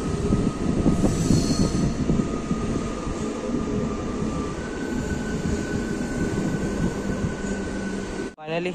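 A slow local train running on the single line from Howrah to Belur Math, with a loud, steady rumble of wheels on rails, metallic squealing tones and a sharp clunk near the end.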